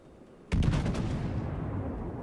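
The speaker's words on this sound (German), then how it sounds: "Schüsse sind raus" A heavy salvo from the battleship Großer Kurfürst's guns in World of Warships erupts suddenly after a quiet moment: several rapid booming shots, then a rumbling roar that lingers and slowly fades.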